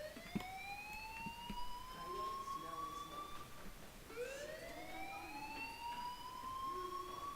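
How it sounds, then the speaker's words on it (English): A video-game fire alarm siren wails, rising in two long sweeps, steady and fairly loud, over a busy background with faint voices. "Hey, do you hear that fire alarm?"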